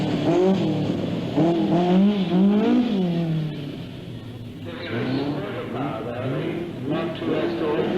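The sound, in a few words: Ford Escort RS 1800 rally car engine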